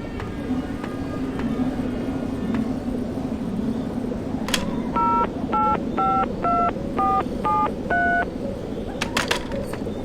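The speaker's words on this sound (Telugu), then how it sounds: "ముందు పోలీస్కి ఫోన్ చేద్దాం." A phone dials the police in the horror video game Mr Meat: a quick run of about nine keypad tones, each a short beep, over a steady low ambient hum.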